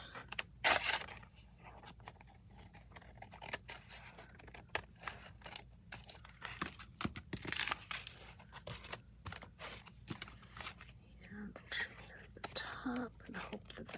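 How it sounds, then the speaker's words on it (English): Scissors trim the bottom piece of a handmade traveler's notebook, giving several short, crisp snips and scrapes close by, with quiet talk and breathy whispering in between. "let me go ahead and trim this bottom piece."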